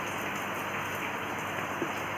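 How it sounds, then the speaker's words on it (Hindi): Heavy rain falls outdoors as a loud, dense, continuous hiss with scattered drop impacts, steady throughout and alone without any talking. "बारिश यहाँ बहुत तेज़ हो रही"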